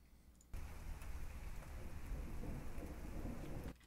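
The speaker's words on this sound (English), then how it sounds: "I need to choose a better rain sound," Steady rain pours as a dense, hissing wash with low rumbling, used as an effect in a music track, starting abruptly and cutting off just as suddenly.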